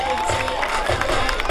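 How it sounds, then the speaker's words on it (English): Crowd cheering and applauding for a young girl performer, a loud, continuous roar with no break. "she deserves your applause"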